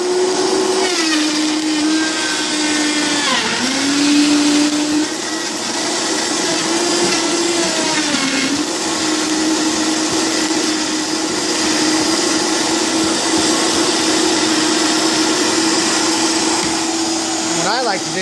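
A Vitamix blender whirs loudly and steadily through tomato soup on high, its motor pitch sagging and recovering as a tamper pushes the contents down, with a continuous roar and no pauses.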